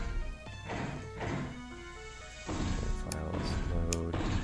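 Heretic video game sounds and music played through a Gravis Ultrasound sound card in DOSBox on a Lenovo Duet Chromebook: layered synthesized tones with thuds and a louder, busier second half.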